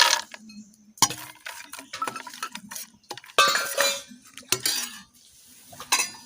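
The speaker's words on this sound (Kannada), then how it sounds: "ಇವಾಗ ಫ್ರೈ ಮಾಡಿಟ್ಟಂಥ ನೆಲಗಡಲೆ ಇದಕ್ಕೆ ಹಾಕಿರ್ತಿದ್ದೇನೆ" Fried peanuts are tipped into a masala in a pan and stirred, giving a busy run of clinks, rattles and scraping spoon strokes with a soft sizzle beneath.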